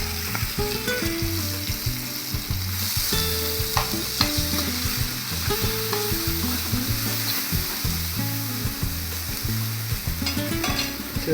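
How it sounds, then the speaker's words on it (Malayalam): Sliced onions sauté in a pan with green chilies for a prawn masala roast, a steady close sizzle broken by repeated scraping strokes of stirring, with no talking throughout. "പച്ചമുളകൊക്കെ മാറി വന്നപ്പോഴത്തേക്കും സവോള എരിഞ്ഞിട്ട് ഇട്ട് കൊടുക്കാം"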